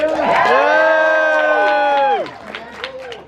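Loud crowd cheering and whooping at a lumberjack log rolling contest, a sustained roar of voices with high shouts that swells for about two seconds, then drops away to scattered calls.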